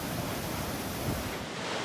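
Treated wastewater rushes out in a broad wall into the Las Vegas Wash in southern Nevada, a loud, steady roar of churning water close by with no voices.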